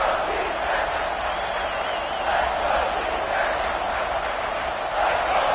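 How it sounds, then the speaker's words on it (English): A football stadium crowd at a late third-down red-zone moment in an Arkansas vs LSU game roars in a dense, continuous wall of cheering and shouting, loud and sustained with a commentator talking over it. "Third down play in the red zone, and this crowd is at fever pitch."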